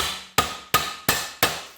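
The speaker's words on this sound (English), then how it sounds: "just work around it with a ball peen hammer and see if we can shock it" A ball peen hammer strikes a stuck lock nut held in a vise on an Eaton Viking rototiller, four sharp metallic blows in an even rhythm, loud and close with no talk.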